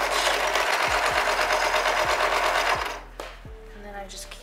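A sewing machine stitching folded fabric on a child-sized cloth mask, a loud, fast, close mechanical whirring run that stops partway, followed by a few soft handling clicks.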